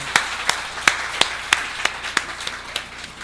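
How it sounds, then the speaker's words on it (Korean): A church congregation claps together during a fourth-anniversary Sunday worship service. About a dozen sharp, evenly spaced claps land in a steady rhythm and taper slightly toward the end, with a faint room murmur underneath. "우리 같이 박수할까요?"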